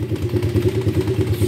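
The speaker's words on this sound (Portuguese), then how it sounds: "Olha o que o motor já está falando conosco aí, ó." Engine of an MXF 125cc quad bike running without oil, knocking in second gear: a steady, loud mechanical idle with a rapid repetitive clatter throughout, near and alone.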